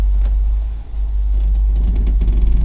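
A Chevrolet Tahoe's engine runs at a steady idle while the transmission is shifted into reverse, giving a close, continuous low rumble with a brief dip partway through and no talking.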